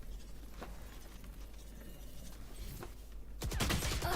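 Rapid gunfire bursts in the video game Valorant play as a quick patter under steady background noise, then a louder burst of shots near the end.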